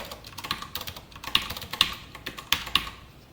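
Rapid keystrokes on a computer keyboard while Python code is entered, an uneven run of light, close clicks with a few sharper, louder taps standing out.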